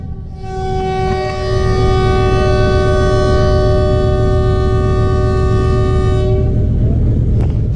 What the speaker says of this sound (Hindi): फर्स्ट विसल हो गया है, विसल बहुत कमज़ोर सा है ना